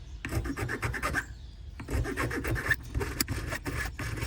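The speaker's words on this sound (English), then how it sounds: "it's very time consuming and a lot harder on your hands to use a file" Steady rasping strokes of a hand file against a canna lily seed, close up and fairly quiet, rubbing back and forth in an uneven rhythm with a short pause partway through.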